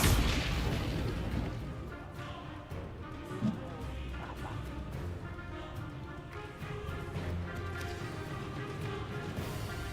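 Confringo blasting spells in Hogwarts Legacy erupt as sharp booms and crashing bursts amid continuous magical combat noise, with a louder blast near the start and scattered impacts throughout, while a voice speaks over the action.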